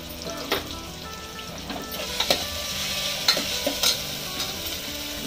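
Ginger garlic paste frying for keema with gawar, a constant gentle sizzle broken by several clinks and scrapes of a spoon stirring in the pan, close up with no talking.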